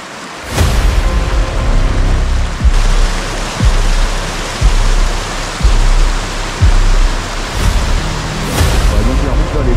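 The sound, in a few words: stream of water running across a damaged road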